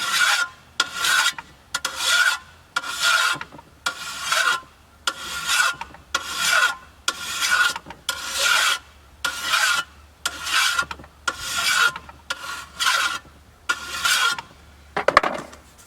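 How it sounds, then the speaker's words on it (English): A metal file dressing the edge of a tempered steel shovel blade, heard as steady rhythmic rasping strokes, about a dozen evenly spaced passes, close and clear with no talking. "I'm simply going to dress this edge with the file and have this one ready to go."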